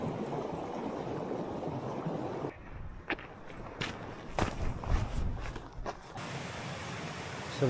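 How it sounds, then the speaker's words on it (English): Steady rushing water from a brook beside a moorland track gives way after a few seconds to footsteps crunching along the track, with the flowing water still behind them. "So we're now walking up the track beside Blackavend Brook."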